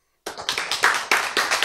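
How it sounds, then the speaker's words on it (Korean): An audience claps at a Korean lecture on spiritual energy, a short burst of crisp, fairly near handclaps in a quick, uneven rhythm with no talking over it. "박수."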